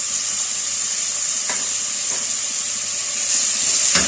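Finely chopped onions, two large ones, sizzle steadily in hot oil while being fried until light golden; a constant close hiss with a few soft stirring clicks, no voices.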